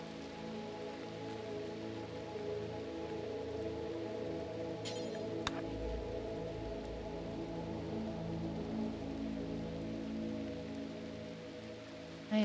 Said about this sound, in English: Just letting you guys enjoy the sound of the rain.